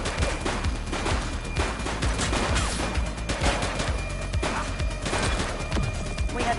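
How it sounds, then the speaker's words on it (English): Dense, continuous bursts of gunfire from a police shootout in the video game The Precinct, with rapid overlapping shots and crashing impacts layered under a steady game soundtrack. "He's shooting!"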